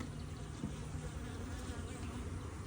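Honeybees in a Langstroth hive, one week after it was set up, make a steady, dense, low buzzing hum that continues without a break, soft and close with no talking.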